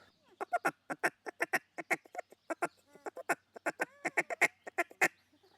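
A duck call imitates territorial ducks sitting on the water, giving a rapid rolling chatter of short, loud, nasal quacks and clucks in quick bursts, close and alone.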